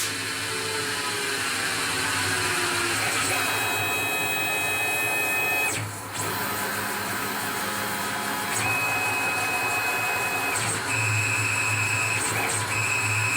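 A Tormach lathe cuts threads on titanium screws, giving a steady motor whine with high machining tones that shift in pitch as the tool makes its passes, and a brief dip near the middle.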